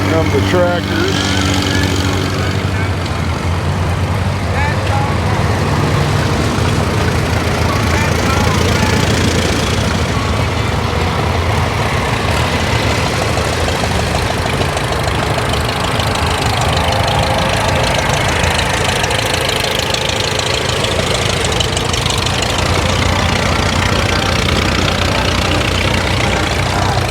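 Loud, steady engine rumble with a knocking, chugging texture runs throughout, as tractors idle and drive past nearby at a classic car show and cruise.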